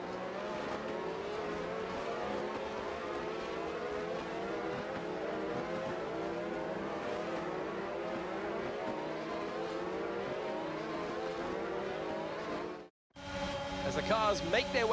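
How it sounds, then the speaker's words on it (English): Formula 1 race cars on the formation lap in the F1 22 racing game, a dense, continuous engine drone that holds steady, cuts out sharply for a moment near the end, then resumes. "The formation lap gets underway and every driver will be looking to settle in for the race ahead"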